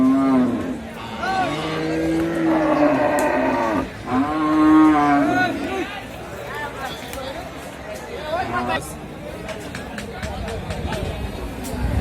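Several long, deep moos from large Sahiwal and Holstein Friesian bulls rise over busy crowd chatter and people talking, with a noisy open-air cattle market bustling around them.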